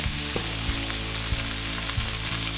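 Shredded cabbage for sauerkraut frying in a pan during a vinegar reduction, giving a steady, close, even sizzle with a few faint clinks of utensil stirring.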